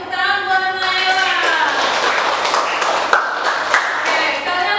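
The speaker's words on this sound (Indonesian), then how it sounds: "tepuk tangan buat Naila." A classroom of students applauds, a loud, dense burst of hand claps that starts as a voice trails off and then carries on steadily close by.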